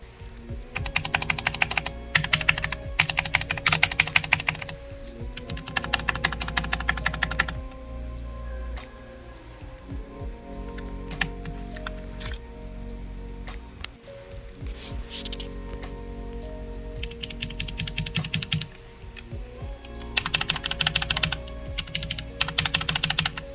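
Bursts of rapid typing on a keyboard with rubbery handmade resin keycaps, soft and slightly muted clacks in several runs separated by pauses, close up with no voices.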